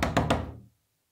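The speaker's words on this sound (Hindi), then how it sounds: "युसरा, युसरा दरवाजा खोलो।" Three quick knocks on a door, close and solid, evenly spaced and then dying away into silence.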